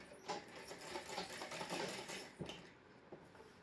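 A sewing machine runs steadily, stitching the half-inch waist seam of a plain frock, its fast needle whir continuous and close for the whole stretch with no one speaking.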